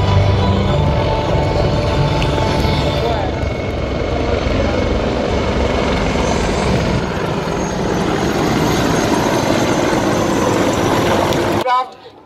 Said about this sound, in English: Attack helicopters are also known as the flying tanks.